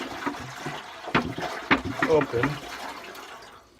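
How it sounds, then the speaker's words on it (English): Liquid sloshing and swishing inside a motorcycle gas tank during de-rusting, uneven watery surges and splashes rising and falling at close range, with brief speech partly over it. "I just need to swish it around in there for a little bit to get all of that stuff out"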